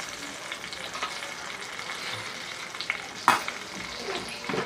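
Tomato pieces fry and sizzle in oil in a pan for a tomato, coriander and coconut chutney, a steady close crackle with a few sharper clinks and scrapes from stirring partway through.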